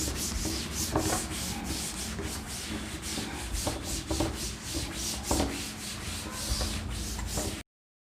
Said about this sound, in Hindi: चलिए इसको रब करते हैं